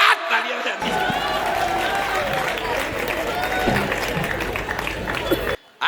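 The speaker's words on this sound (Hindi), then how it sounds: "जोरदार तालियां बजाइए" A dense, continuous burst of audience clapping fills a comedy poetry gathering for about five seconds, loud and close, then cuts off abruptly.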